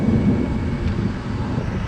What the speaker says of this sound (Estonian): Auto teeb mingi rämedat imelikku häält kohe. See on nagu fööniga sõidaks põhimõtteliselt.